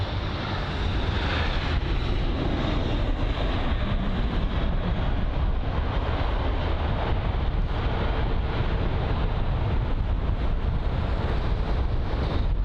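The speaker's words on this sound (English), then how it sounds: "that's an American Airlines Boeing 777 that will be taxiing this way" Steady roaring whine of an American Airlines Boeing 777's engines as it taxis at London Heathrow, loud and continuous with wind buffeting the microphone throughout.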